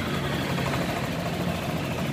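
A Yamaha NMAX scooter engine runs rough just after being started, a steady close-up idle drone with a low uneven rumble and vibration, heard alone without talk.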